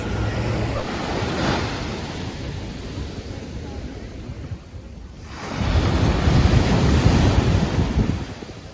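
Waves rolling onto a beach in Barcelona, a steady broad wash of surf with wind buffeting the microphone, a brief dip in the middle and then a louder, closer surge.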